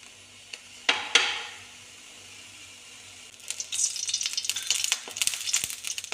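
Mustard seeds and curry leaves frying in hot oil, starting with a few sharp pops and then a dense, loud crackling sizzle that stays up close for several seconds, with no voices.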